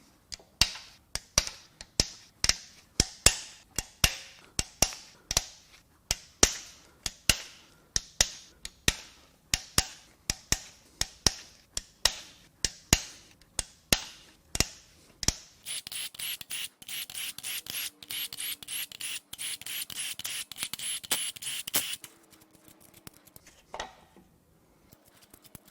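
A ratchet wrench loosens the cam caps on a Ford/Mazda 2.3L MZR engine, giving a long run of evenly spaced sharp clicks, then a quicker, denser stretch of ratcheting, close and with no talking.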